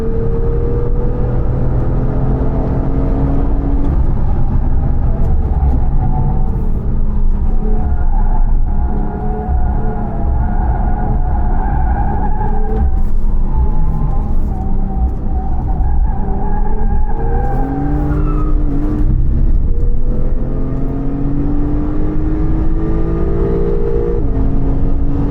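A race car engine roars close and loud through a full club track-day lap at the Dix mille Tours event, the pitch climbing and falling with each upshift and braking zone, with brief tyre squeal and no talk.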